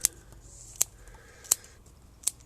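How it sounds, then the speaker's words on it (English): Scissors snipping Portulacaria jade bonsai branches: four crisp, evenly spaced metallic clicks, close and fairly quiet, with no voices. "For today, I'm just going to cut them back"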